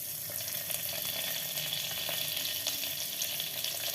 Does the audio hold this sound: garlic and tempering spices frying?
yes